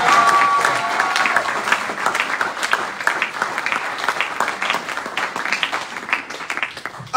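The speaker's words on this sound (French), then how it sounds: "Acclame très fort, acclame très fort." A crowd at a religious teaching gathering gives loud, sustained applause, dense overlapping clapping that fills the whole stretch evenly with no talking over it.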